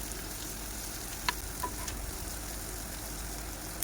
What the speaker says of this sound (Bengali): পেঁয়াজ কুচি কাঁচামরিচ কুচি লবণ আর একটু তেল দিয়ে পেঁয়াজটাকে হালকা একটু ভেজে নেব